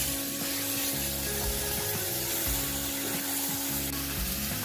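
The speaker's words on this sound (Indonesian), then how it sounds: "Tumis sebentar." Boiled vegetables for capcay sizzle in a pan as they are briefly sautéed, a steady frying hiss with scraping stirs throughout, close and loud.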